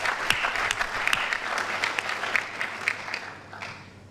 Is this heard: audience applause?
yes